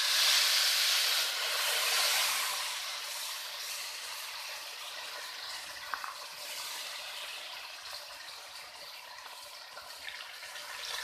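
Water poured into browned semolina for halwa hisses and sizzles in a steady, loud, broadband rush that slowly settles to a softer sizzle, with no talking.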